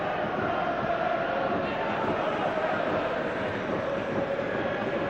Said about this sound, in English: Expectant chorus of singing about Jan Vennegood of Hesselink from the crowd